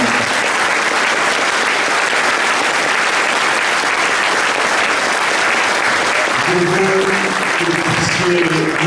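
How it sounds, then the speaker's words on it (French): Loud, sustained applause from a crowd at a legislative election second-round campaign rally in Dieppe, continuous dense clapping with a voice emerging over it in the last couple of seconds. "On peut applaudir tous ceux qui ont contribué à cette"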